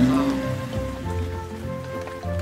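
Steady cartoon rain falls on a farm scene, a continuous patter of drops running loud and unbroken throughout, with a soft musical tone beneath and no talking.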